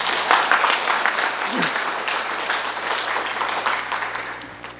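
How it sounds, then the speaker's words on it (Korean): A Sunday-service congregation at a Korean church gives the choir another round of applause, with dense, lively clapping that swells at the start and gradually fades, with no talk over it. "여러분들 한 번 더 박수 보내드릴까요?"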